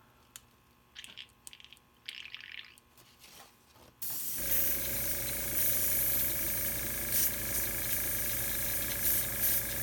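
An airbrush with a clogged tip, loaded with base coat paint, starts as a sudden loud, steady spitting hiss about four seconds in and runs to the end, after a quieter stretch of faint clicks and short bursts of air.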